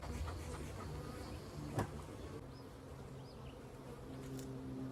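Honey bees buzz steadily around an opened hive during a comb cut-out, a dense close drone with individual bees passing near, with no talking.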